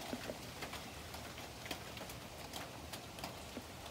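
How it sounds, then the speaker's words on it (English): Rain outdoors blowing things around, a steady wash of noise broken by scattered light taps and knocks, heard alone without talk. "That's just the rain blowing stuff around, those noises."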